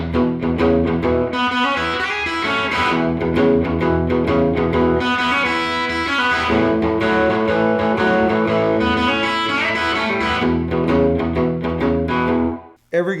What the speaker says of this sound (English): Out of the AC30 over into a real white trash hillbilly guitar amp, which is the old blackface Fender Super Reverb.